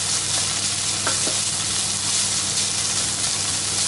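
Chorizo fries in a pan with a loud, steady sizzle, a dense crackling hiss that continues without pause, with a couple of faint utensil clicks.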